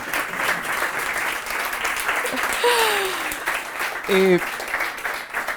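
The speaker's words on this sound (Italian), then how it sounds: "L'applauso ritorna spontaneo" Spontaneous audience applause in a wine-cellar multipurpose hall during an evening literary event, steady dense clapping throughout with a voice speaking briefly over it.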